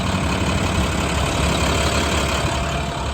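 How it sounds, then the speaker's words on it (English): A steady, rumbling diesel engine of a 2012 International PB105 short school bus idles continuously, low and full-bodied with no breaks or talking. "the engine does sound healthy"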